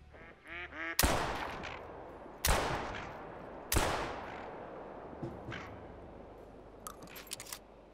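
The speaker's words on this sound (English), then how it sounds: "That was 3 shots." Three sharp gunshots ring out about a second apart during a waterfowl hunt in Finland, each one loud with a long fading echo, while geese and ducks honk and quack faintly around them.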